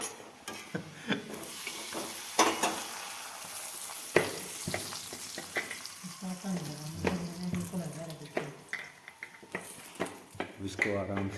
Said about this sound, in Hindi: थोड़ा सा और फ्राई करने देते हैं